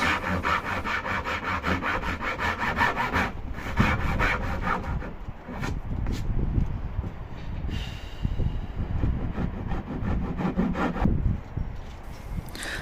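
Hand saw cutting dovetails in wood, a close rhythmic rasping of strokes back and forth with brief pauses between runs, quiet and alone without any talk.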